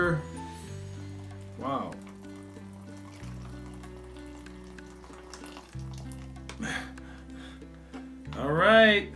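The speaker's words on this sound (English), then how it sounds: "we're gonna add 1 1/3 cup of hot boiling water" Hot boiling water is poured into a Mountain House raspberry crumble pouch, giving a soft sizzling trickle that rises in short bursts under background music, and someone briefly exclaims in between.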